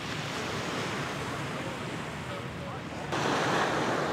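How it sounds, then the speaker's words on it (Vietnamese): Sea waves roll in at Bãi Dương beach in Nha Trang, by Phạm Văn Đồng street, a steady broadband surf wash with wind noise that swells louder near the end. "đây là biển của khu vực bên đường Phạm Văn Đồng, khu vực biển Bãi Dương thôi"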